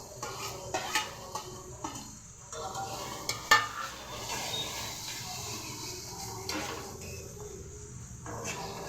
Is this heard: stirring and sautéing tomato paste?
yes